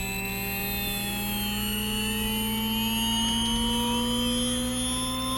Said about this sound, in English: That is the sound of amazing technology that allows this bike to stay upright.